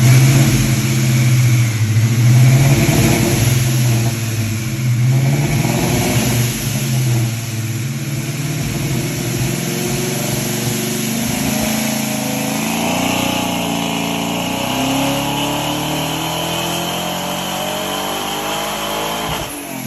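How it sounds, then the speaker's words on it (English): A pro-charged 4.6 V8 in a 1999 SN95 Mustang runs on a dyno, loud and close, revving up through a long pull with rising, sustained engine tones and a slight fade toward the end. "The car made on the dyno, which I can probably insert a clip here."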